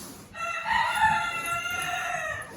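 A rooster crows loudly nearby, one long drawn-out call against faint background noise, with no talking.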